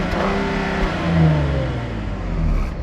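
A 2021 VW Atlas R-Line with a 3.6-liter VR6 engine revving, rev-limited below 4,000, heard from outside the car, a loud steady engine drone rising and easing over a few seconds with no talk.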